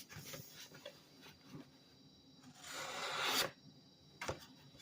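Knife blade stropped on long underwear fabric to clear the burr, soft rasping strokes repeated at an uneven pace, close up and fairly quiet, with one longer drawn-out rub.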